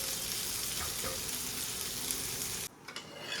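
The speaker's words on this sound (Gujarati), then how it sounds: "થોડી વાર ભીંડાને ચડવા દઈશું." Okra (bhindi) frying in a pan, a steady loud sizzle with occasional stirring scrapes, which cuts off abruptly near the end, leaving quiet clinks.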